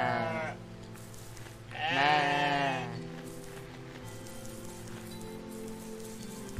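Sheep bleating in the video game OneShot, with two drawn-out bleats over steady rain and soft background music.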